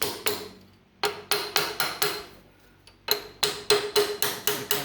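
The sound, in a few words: hammer tapping old race against new bearing race, John Deere A tractor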